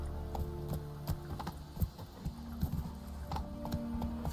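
Roach, Geralt's horse in The Witcher video game, gallops with steady hoof clip-clops layered over a soft in-game ambient drone and occasional sharper thuds.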